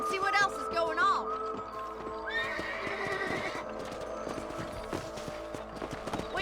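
Horse hooves clip-clop in Red Dead Redemption, a steady trotting rhythm that runs throughout, mixed with a whinny and game sounds while a voice talks over it.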